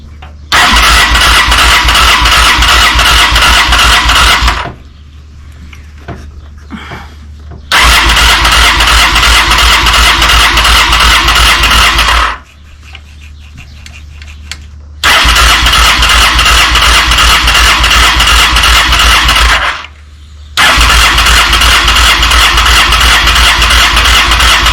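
A Honda Shadow motorcycle engine cranking over and over with the choke on, failing to catch, in three long loud bursts of rapid churning separated by short quiet gaps.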